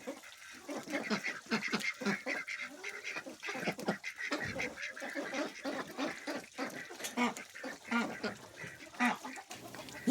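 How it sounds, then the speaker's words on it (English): A flock of ducks quacks loudly and continuously nearby at a homestead coop, overlapping calls in a busy, excited chorus, with other fowl mixed in. "You can hear the ducks are excited about fresh water."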